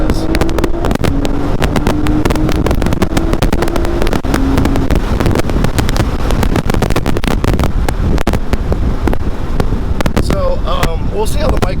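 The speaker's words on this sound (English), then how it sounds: "even though the wind noise does pick up, it's incredibly calm in this cabin" A 2020 BMW Z4 M40i roadster with its 382 hp engine, driven top-down, gives a loud steady roar of wind buffeting and road noise, with someone talking throughout.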